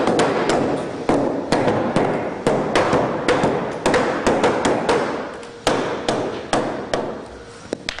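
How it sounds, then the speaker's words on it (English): Repeated hammer strikes on timber, sharp knocks in an uneven rhythm with ringing decay, close and loud, no speech. "Now sometimes you do also need to use a hammer"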